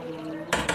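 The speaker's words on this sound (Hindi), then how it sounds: "चमचा वही एहतियात से चलाना है" A metal ladle scrapes and clinks twice against a pot of chicken dum biryani masala, two short, close knocks.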